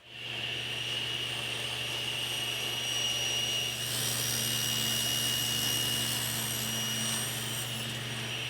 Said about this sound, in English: So now I can rip them to exact size on the table saw.